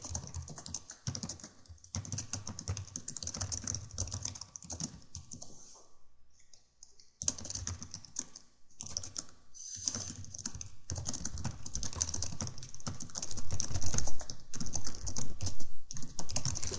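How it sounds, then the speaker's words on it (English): Continuous computer keyboard typing, rapid irregular key clicks close by, with a brief pause midway before resuming and growing slightly louder. "I'm just typing this to my friend Renegades."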